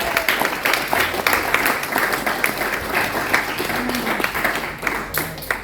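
A church congregation bursts into loud, sustained applause in praise, dense clapping that fills the room steadily throughout, with voices faintly mixed in.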